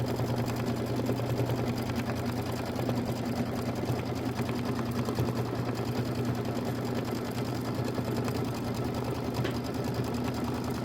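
A sewing or embroidery machine stitches a quilt's trimming guideline in a steady, continuous close hum with fast rhythmic needle chatter, running alone without pause.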